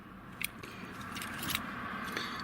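Car keys jangle close up, two duplicates and an original Toyota key clinking together in a few light bursts of metallic chiming over a quiet background.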